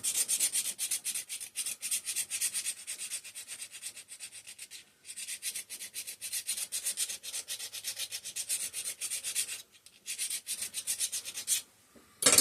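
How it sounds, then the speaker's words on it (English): A round chainsaw file rasping corrosion off a steel part of a 5hp Briggs and Stratton engine, fast repeated back-and-forth strokes in close, gritty bursts with brief pauses between runs. "This is actually a chainsaw file. I'm just going to try to cut through some of the crud, the corrosion."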